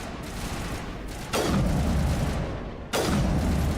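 Assault rifle fire in the video game Mass Effect: a continuous rattle of distant shots, broken by two loud, sharp blasts that decay over about a second each.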